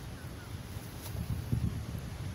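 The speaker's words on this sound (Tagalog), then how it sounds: "Oh my god. Lakas naman ng hangin." Strong, gusty wind blows outdoors across an open microphone, a low buffeting rumble that swells in bursts and stays steady and fairly loud, with no talking.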